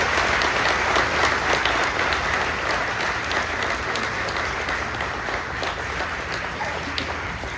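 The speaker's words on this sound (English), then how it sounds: "giving them a warm welcome and a well-deserved round of applause" A crowd applauds warmly at an eighth-grade graduation ceremony, a dense, sustained patter of many hands clapping at once, steady throughout with no speech over it.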